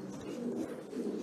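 A Shami pigeon, a black domestic show breed, gives a soft, low cooing call of about a second, close and clear with no talk over it.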